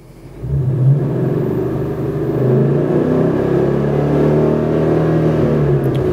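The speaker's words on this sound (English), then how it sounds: "If I rev the engine" A car engine revs up after a brief pause and then holds a loud, steady rumbling drone.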